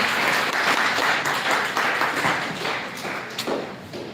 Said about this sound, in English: Let us all clap for her beautiful presentation.